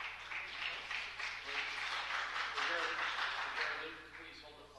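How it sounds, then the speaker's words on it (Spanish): Audience applause at a city council meeting, a continuous patter of clapping from a crowd that swells and then tapers off, heard at a moderate distance. "No aplaudan, por favor."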